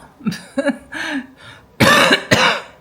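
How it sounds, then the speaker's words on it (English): Raspy coughs close by: a few lighter ones at first, then two harder, louder bursts near the end. "still got that little raspy cough"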